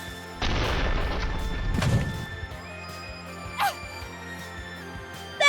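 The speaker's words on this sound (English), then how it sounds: "Here comes an Oreo explosion." A sudden loud explosion of a giant Oreo bursts out, a booming blast with a crackling rumble that lasts over a second, followed by a few faint thumps and clatters.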